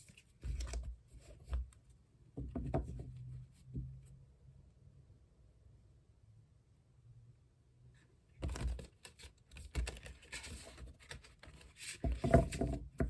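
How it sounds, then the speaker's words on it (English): A deck of tarot cards is shuffled by hand in two bursts of riffling, papery flicks separated by a quiet pause, close and moderately soft. "One more shuffle."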